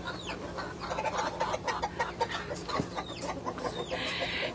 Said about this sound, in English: These are two younger roosters, actually, that are the silver laced.